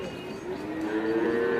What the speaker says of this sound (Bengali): চারটা গরু